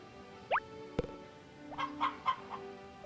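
Chickens in a Harvest Moon video game coop, heard as a sharp rising squawk and a click followed by a short series of soft, evenly spaced synthesized clucks, clean and alone.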